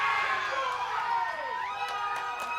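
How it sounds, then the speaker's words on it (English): Football fans scream and cheer together at a sports grill at the start of a football season, loud overlapping high-pitched yells and whoops, some sliding in pitch, filling the whole moment. "Screaming fans signaled the start of another football season"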